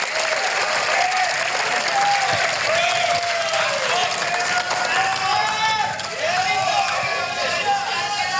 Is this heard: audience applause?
yes